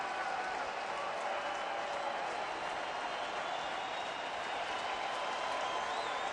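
Sellout baseball crowd at a Houston–Milwaukee game roaring and applauding steadily from the stands, a dense continuous wash of cheering and clapping with no break.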